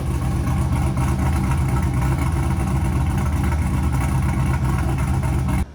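Close car exhaust rumbling steadily with the cutout closed, a supercharger blower whine running on top, loud and continuous throughout until cutting off at the very end.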